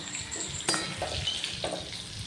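Fried red taro greens crackle in hot oil as black cumin seeds go in, making a soft sizzle broken by a few quick stirring scrapes and a sharp clatter near the start.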